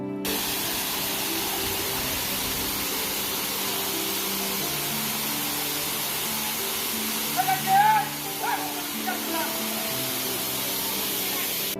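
Water crashing down at Komoldoho (Rupshi) waterfall in Bangladesh makes a loud, constant roaring spray throughout, with faint voices murmuring underneath.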